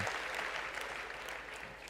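Moderately quiet audience applause, a steady wash of many hands clapping that gradually tapers toward the end.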